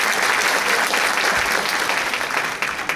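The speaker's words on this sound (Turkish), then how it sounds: "Ona büyük bir alkışlarımız." Loud audience applause at a public gathering in Kocaeli, a dense burst of many hands clapping that stays strong and thins slightly toward the end.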